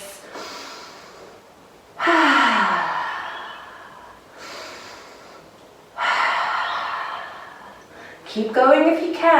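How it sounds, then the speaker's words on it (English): Slow, deep breaths during a children's yoga exercise, with long audible inhales and exhales in repeated cycles, close and clear, ending with a shorter breathy sound. "Big deep breaths."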